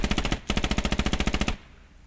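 Rapid automatic rifle fire from the video game Squad, a steady burst of about twenty evenly spaced shots, loud and close, pausing briefly once before continuing, then cutting off into a faint decaying echo.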